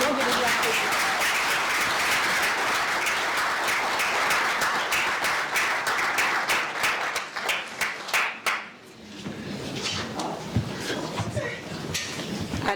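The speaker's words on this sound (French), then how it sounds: "Donc, je vous demande de les applaudir." A large audience at the closing of a 2025 summit claps loudly and steadily, a dense wall of close and distant hands that thins out and fades near the end as the room settles.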